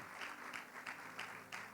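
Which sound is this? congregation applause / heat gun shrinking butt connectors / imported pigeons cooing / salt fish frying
congregation applause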